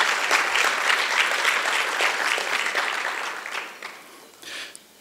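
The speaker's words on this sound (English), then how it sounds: "So everybody give yourselves a round of applause." Audience at a celebration luncheon applauds warmly, a dense wash of clapping that holds steady and then thins and fades toward the end.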